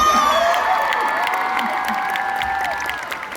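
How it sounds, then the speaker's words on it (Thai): Loud applause and cheering from a crowd of fans at a live comedy duo show in a Rama 9 shopping mall in Bangkok, dense and sustained with scattered whoops, easing slightly toward the end. "ขอบคุณเสียงปรบมืออันดังสนิทนี้ด้วยค่ะ"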